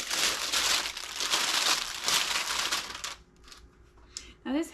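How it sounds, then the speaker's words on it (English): Ciabatta bread topped with sesame and flaxseed is torn apart by hand, giving a run of loud crackly, crinkly tearing bursts close up, then a few quieter rustles. "So I like to tear my bread."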